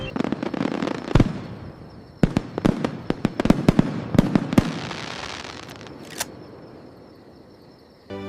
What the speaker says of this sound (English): Oh my goodness, look at that one! The colors are absolutely incredible tonight. Dad, why do fireworks have so many colors?